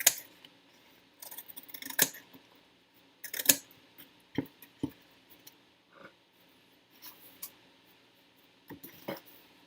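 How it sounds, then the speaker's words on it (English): Gingham-patterned craft scissors snipping through thin cereal-box cardboard for sci-fi scatter terrain, giving sparse, sharp, close snips and clacks at irregular intervals with quiet handling rustle between them. "Now we can use these gingham scissors."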